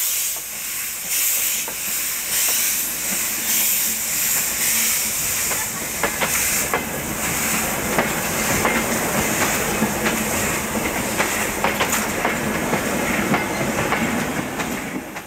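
An oil-fired Spanish Garratt steam locomotive built under license from Beyer Peacock runs steadily, with a broad hiss of steam and a faint rhythmic clatter of wheels on track throughout.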